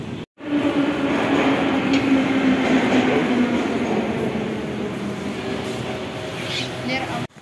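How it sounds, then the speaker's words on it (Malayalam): A St. Petersburg metro train rumbles steadily and loudly through the underground for several seconds, a continuous roar with a low droning tone and faint rail clatter. "ഇനിയിപ്പോൾ ഇവിടെ നിന്ന് മെട്രോ കയറണം."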